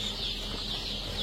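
Young black chicks being sold, peeping and clucking softly in a steady close chorus with no pauses.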